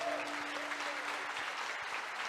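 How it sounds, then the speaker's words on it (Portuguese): A church congregation at a Portuguese-language service applauds in a continuous, even wash of clapping, moderately distant and sustained throughout. "Você pode aplaudir Jesus?"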